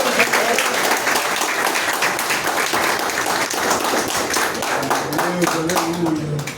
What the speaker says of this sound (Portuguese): e as palmas lá me agradecem